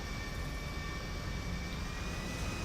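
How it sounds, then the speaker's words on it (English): Small airplane in a flight video game during a clumsy landing that veers off the runway, its engine giving a continuous steady drone with a faint whine, close and unbroken. "virtual me here in my little airplane trying to land clumsily and going off-roading"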